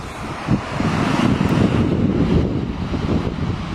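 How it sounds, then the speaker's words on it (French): Strong seaside wind buffets the microphone in a continuous low roar, loud and steady with gusty swells, no voices present. "Je pense qu'on entend le vent."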